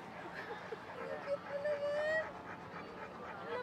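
A dog gives faint whines and soft yelps under a steady background murmur, with a voice or two also audible.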